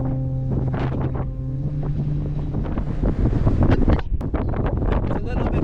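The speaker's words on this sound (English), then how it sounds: "It's a little bit windy up here." Wind gusting over an exposed high spot on a wilderness journey, a steady rough rumble with buffeting against the microphone, while speech is also present.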